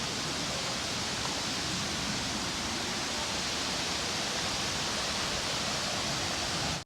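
A waterfall roars in a steady, dense broadband rush, loud and close, with no pauses or other sounds breaking through.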